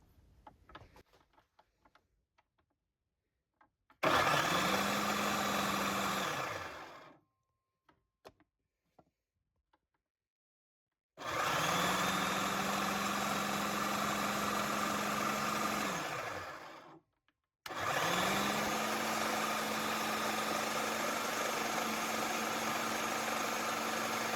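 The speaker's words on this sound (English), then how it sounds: "Now we are going to turn on the food processor to pulse, and I have it on low." A food processor runs on low, pulsing roasted garlic white bean dip in three sustained whirring bursts of a few seconds each, separated by short silences, near and steady, with faint clicks between.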